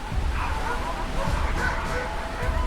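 A pack of wolves barks and yips in an audio drama set in the Canadian Rockies, with several overlapping animal calls repeating against a noisy, busy outdoor background.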